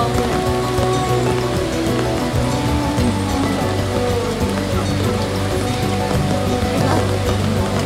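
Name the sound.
rain falling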